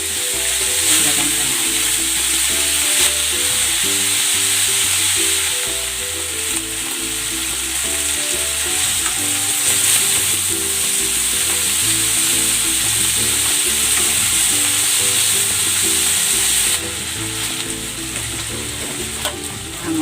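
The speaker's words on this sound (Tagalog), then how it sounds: "Ipapan-grill ko muna itong pork ribs." Pork ribs frying in hot cooking oil, a steady dense sizzle with crackling pops running close and loud throughout, nobody talking.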